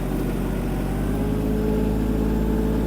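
Kubota KL-25 Japanese mini tractor engine running steadily close by during tight turns, a continuous low droning rumble with no pauses and no talk.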